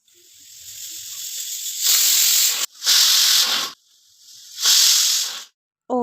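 Chicken frying in a pan gives off loud bursts of sizzling hiss that swell and cut off in three waves, close and steady, with a brief voice at the very end.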